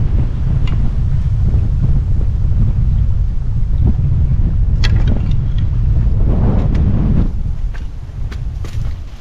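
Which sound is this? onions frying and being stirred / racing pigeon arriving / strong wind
strong wind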